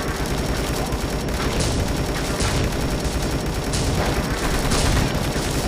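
Turret gunfire in the zombie game Dead Ahead Zombie Warfare: a dense, continuous rattle of rapid shots with occasional sharper bursts, loud and close throughout.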